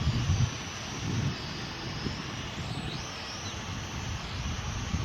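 Steady outdoor wind roars and buffets a microphone, with a thin, high, whining tone that drifts up and down, likely a small drone flying nearby.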